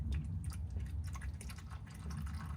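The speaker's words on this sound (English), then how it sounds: "Oh, it's starting to drip now." Engine oil drips steadily from the drained sump of an early P3-chassis Volvo XC70 T6 during an oil change, a soft, continuous wet patter that stays close and low, with no talking.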